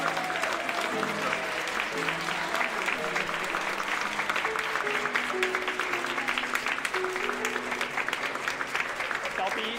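Guests applaud steadily as the groom enters at a wedding ceremony, a dense, even patter of clapping sustained throughout, with music tones running beneath.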